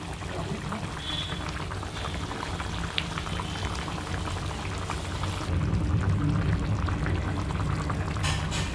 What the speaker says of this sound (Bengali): দেখো ঝোলটা ভালো মতো ফুটছে।